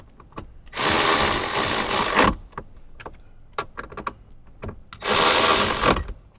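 Screws are tightened during a car amplifier install in a 2024+ Toyota Tacoma, with two loud, close bursts of a power tool whirring for about a second each, separated by scattered clicks and handling knocks.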